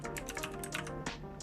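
Quick run of computer keyboard keystrokes typing a file name on an Ubuntu machine, close and clear, around a dozen light clicks in an uneven rhythm over a steady low hum.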